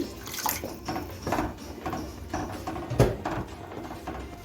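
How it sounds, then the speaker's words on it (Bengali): Water poured into a cooking pan holding an egg and spinach curry, a splashy gurgling pour with a few sharper splashes, close and fairly loud, no talk. "এখন আমি পরিমাণ মতো জল দিয়ে দিচ্ছি"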